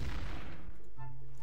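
A gunshot in Garry's Mod fires as a sharp, loud boom at the start and quickly decays into a rumbling tail, heard alone with no voices.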